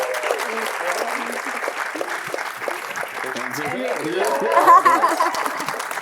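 An audience gives a sustained round of applause at the close of a sports media careers event, steady clapping with some chuckles and voices mixed in.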